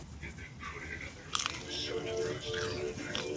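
Crunchy fried tripas, seasoned with fajita seasoning, bitten into close up, giving a sharp crunch followed by a few softer chewing crackles.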